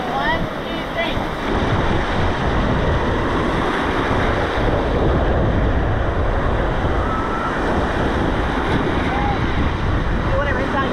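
Ocean surf washing loudly onto a beach with strong wind buffeting the microphone, steady broadband roar throughout, with people's voices faintly mixed in.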